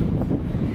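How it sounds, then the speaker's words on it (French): Wind gusts buffet the microphone outdoors in a dense, low, continuous rumble that fills the short moment with no other clear sound. "Il y a du vent."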